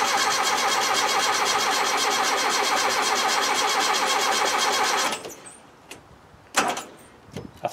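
A Land Rover Defender 90 with a 2.25-litre petrol engine cranking without firing: a loud, rhythmic starter churn runs for about five seconds, then stops, leaving a few faint clicks and knocks in the quiet.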